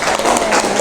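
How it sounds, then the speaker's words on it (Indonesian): Brief burst of dense applause from a classroom group of students, loud and close, filling the short moment without a break. "tepuk tangan"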